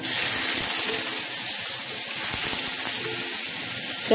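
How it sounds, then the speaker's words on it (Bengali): Tatkeni fish rubbed with turmeric and salt frying in a pan gives a steady, bright hiss of sizzling oil that stays close and even throughout, with no talking over it. "এই টাটকেনি মাছ আমি একটু ভেজে নিব"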